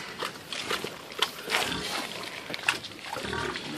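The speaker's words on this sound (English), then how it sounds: "What pig can make a pumpkin pie sound wet?" A pig eats pumpkin pie, snuffling and chewing wetly with sloppy smacking sounds and occasional grunts, close by, with a few scattered clicks and movements around it.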